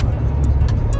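A car's engine runs steadily and up close, a dense low rumble holding level throughout the short stretch with faint higher hiss bursts on top and no talk.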